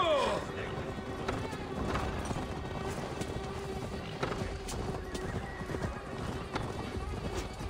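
Galloping horse hooves clip-clop steadily and close in Assassin's Creed Valhalla, with a brief neigh, over continuous game ambience and speech.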